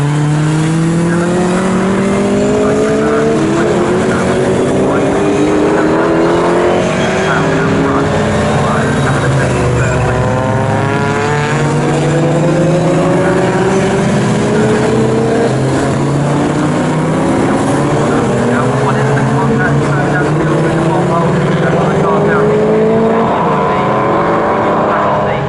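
Classic 1960s race cars, a Ford Mustang and Triumphs among them, roar past in a Group 2 race at Snetterton. Loud engines rise and fall in pitch as cars pass in succession, with a commentator talking over the racket.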